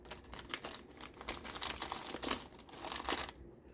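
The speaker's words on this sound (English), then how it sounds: "Let me grab another black envelope for that side." A black paper envelope is handled close up in a papercraft session, giving a steady run of crinkling and rustling bursts that stop abruptly near the end.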